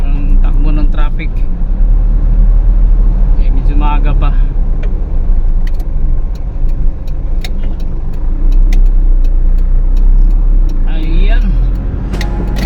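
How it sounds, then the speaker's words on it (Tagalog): Road traffic in Pasig rumbles steadily as cars and other vehicles drive past, with a loud continuous low engine drone, occasional passing swells and brief horn-like tones, while someone talks over it. "tingnan natin ang takbo ng traffic"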